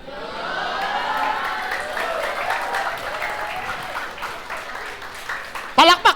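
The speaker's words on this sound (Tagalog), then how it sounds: "Palakpak naman, Biber!" A church congregation claps at moderate volume, steady and fairly distant through a few seconds, with a brief louder burst of nearby sound near the end.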